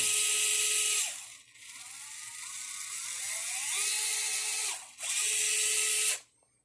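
A DeWalt 8V gyroscopic screwdriver runs in several loud, close whirring bursts, its motor pitch rising and falling as the speed changes, with short pauses between runs and no talk.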